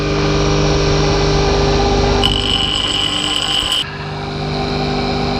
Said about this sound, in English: so I'll go down to the grindstone end.